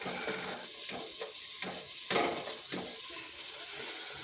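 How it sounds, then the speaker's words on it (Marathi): Chopped vegetables for pulao fry in a pan with a soft, continuous sizzle. Light clinks and scrapes of stirring come every half second or so, with one sharper knock partway through. "आता मी हे सर्व भाज्या कट केलेल्या धुवून ठेवल्या होत्या ते आता मी ह्याच्यामध्ये टाकते फ्राय करण्यासाठी"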